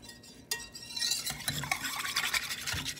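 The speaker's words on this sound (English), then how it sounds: "Whisk it until it's mixed." Egg yolk mixture for a lemon meringue pie filling is beaten briskly with a whisk after a brief pause, producing a rapid, continuous scratchy swishing against the bowl, close and fairly quiet, no voices.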